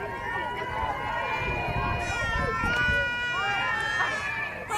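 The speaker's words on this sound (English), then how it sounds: "Can probably hear all the crowd noise here" Crowd noise at a baseball game between the West Scarlets and East Cougars, a continuous murmur of spectators with whistles and shrill cheering drifting over it.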